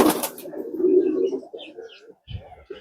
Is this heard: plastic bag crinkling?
no